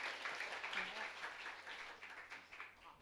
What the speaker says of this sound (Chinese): 感谢主我们再一次将掌声归给我们的神，